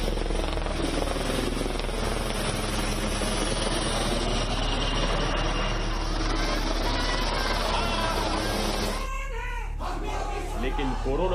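Steady army helicopter rotor drone as it showers flowers over a crowd, with crowd noise and voices mixed in, loud and continuous, cutting off abruptly near the end.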